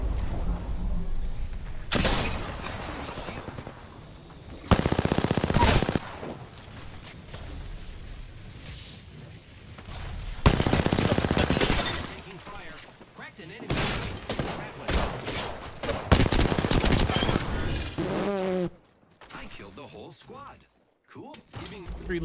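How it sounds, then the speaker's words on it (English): Gunfire from an Apex Legends match, with loud bursts of automatic fire coming in several separate volleys between stretches of quieter game noise and a voice talking. "I want to shoot this guy."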